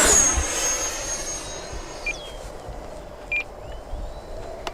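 An FMS Viper 70mm electric ducted-fan RC jet makes a fast pass with a high whine that sweeps downward as it goes by, followed by a few short electronic beeps over faint background noise.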